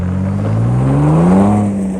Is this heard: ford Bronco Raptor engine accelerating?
yes